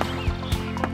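Billy goat hooves clip-clopping across a bridge in a children's story, a few hollow knocking steps spaced at an even walking pace, fairly close and clear.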